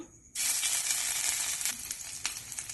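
Crushed ginger and cumin seeds sizzle loudly in hot oil in a pan, a dense steady frying hiss that bursts in suddenly and continues close and unbroken, with no talking.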